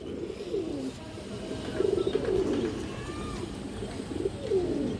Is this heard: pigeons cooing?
yes